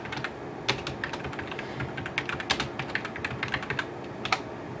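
A computer keyboard is typed on to enter a search, a quick run of close, crisp key clicks with brief pauses, alone without talk.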